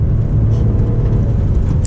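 A BMW M5 Competition's V8 engine pulls hard under acceleration, a loud, steady low rumble heard from inside the car with no speech over it.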